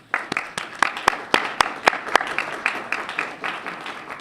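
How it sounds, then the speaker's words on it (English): Applause at a STEM and innovation welcome reception for an awardee, scattered sharp individual claps standing out over a softer crowd patter, moderately loud and fading slightly toward the end. "let's give her a round of applause for just joining us"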